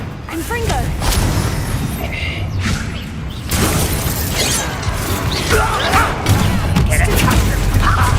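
Confringo blasting spell in Hogwarts Legacy, part of a busy fight with loud crashing impacts, thuds and mechanical clatter while voices shout over the chaos.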